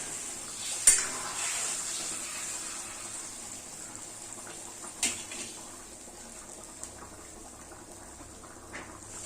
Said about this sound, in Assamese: এতিয়া মই তাতে উতলাই থোৱা পানীখিনি দি দিছোঁ। অলপ সময় উতলিবলৈ দিম